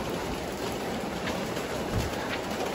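Steady rain falls over a Muslim village, a dense, even hiss of drops that holds at constant loudness for the whole stretch, with no voices.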